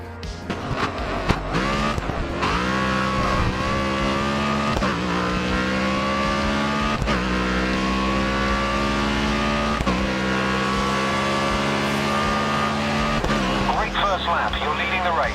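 A race car engine holds a sustained, rising whine with shifting harmonic tones, and brief tire squeal, all in the Grid Autosport track racing game. It plays loud and continuous for the whole stretch, with a faint voice beneath.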